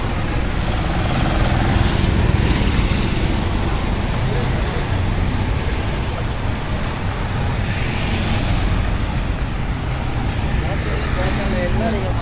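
A vehicle drives past on a street in Hatton town, Sri Lanka, a steady, fairly loud road rumble that fills the whole stretch with broad traffic noise.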